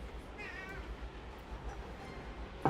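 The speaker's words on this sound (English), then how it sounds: "My weasel, you're making cute meows today." A pet cat meowing softly, one faint, short meow early on over a low background hum, quiet and somewhat distant.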